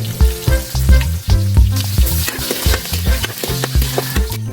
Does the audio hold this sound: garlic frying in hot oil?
yes